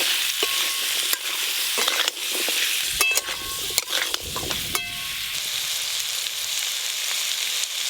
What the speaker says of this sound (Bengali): আলুগুলোও কিন্তু বেশ বড় বড় করে কেটে নিয়েছি, এবার ভেজে নেব।